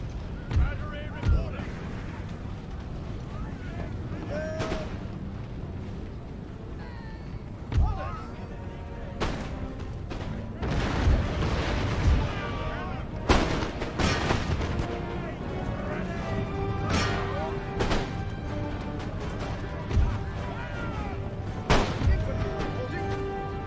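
Artillery cannon fire during a battle in the strategy game Empire: Total War: repeated sharp booming shots spaced irregularly over a steady battlefield din, with someone talking over it.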